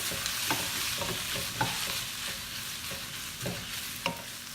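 Curry is stirred and fried in oil in a pot, a steady bright sizzle with spoon scrapes and taps at an irregular rhythm of about one per second, close and alone.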